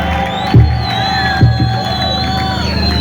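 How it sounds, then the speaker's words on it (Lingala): A church congregation cheers loudly for the Lord, a steady roar of many voices shouting and whooping together, broken by two brief low thumps. "Acclame encore très fort pour le Seigneur."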